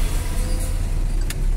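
Steady car engine and road noise from inside a vehicle on a driving test route, a constant close low rumble with a short faint click near the end and no talking.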